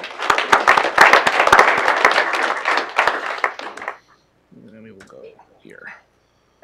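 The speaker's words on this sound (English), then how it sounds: "Let's give him a round of applause." A round of applause at an online community project meeting: dense, loud clapping for about four seconds that thins out and stops, followed by a few faint sounds.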